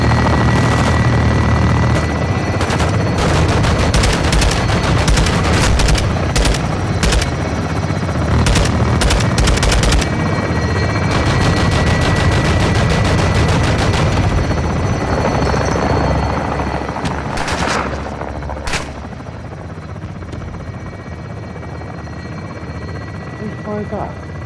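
A helicopter giving air support in Call of Duty: Modern Warfare 2 thumps loudly and steadily while rapid machine-gun bursts crackle in clusters over it, with voices talking throughout and the barrage easing off toward the end.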